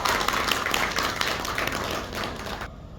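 An audience at a lecture gathering on Tulu Nadu culture breaks into sustained applause, a dense crackle of many hands clapping fairly close, slowly fading toward the end.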